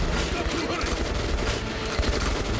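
Rapid enemy gunfire in Metro Last Light, a dense continuous barrage of automatic shots loud and close, with a voice shouting over it.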